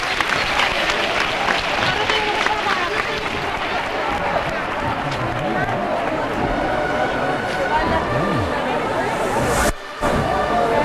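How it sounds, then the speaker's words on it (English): Dense crowd applause and clapping fill a Semana Santa procession in Seville, a loud continuous wash with busy crowd voices throughout, briefly cutting out near the end. "They're clapping and applauding, and soon I believe they'll be chanting."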